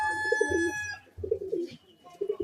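A domestic pigeon coos in low, throaty rolling phrases, three bursts close to the microphone, with a faint high whistle fading out at the start.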